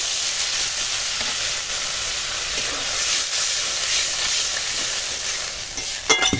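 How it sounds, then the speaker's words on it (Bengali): Water poured onto sizzling fried spice masala in a pan gives a loud, steady hissing roar of steam and frying that holds throughout, ending with a few sharp crackles. "মশলা কষানো হয়ে গেছে, এখন দিয়ে দেব জল।"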